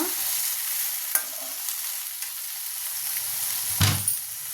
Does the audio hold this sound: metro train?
no